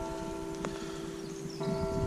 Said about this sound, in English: What you're hearing is a bell ringing.